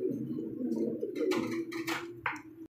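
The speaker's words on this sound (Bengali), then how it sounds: "এখানে আরো এক জোড়া কবুতর, সম্ভবত ডিম নিয়ে বসে আছে" Pigeons coo in low, throaty rolling murmurs, close and continuous, with a few brief rustling scuffs near the end before it cuts off.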